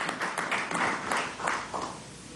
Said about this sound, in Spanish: Un aplauso a Portuguesa y a todo el país productivo.